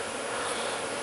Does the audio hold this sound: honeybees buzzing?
yes